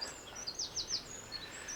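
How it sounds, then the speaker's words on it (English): Birds sing outdoors in a series of short, bright chirps repeated in quick succession, moderately close over a faint hiss of background noise, with no one talking. "Can you hear the birds singing?"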